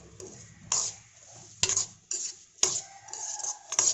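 A spoon scrapes and clinks against a pan while sooji (semolina) is stirred and fried to golden brown, giving sharp intermittent metallic knocks over a quiet, faintly sizzling background with no talking.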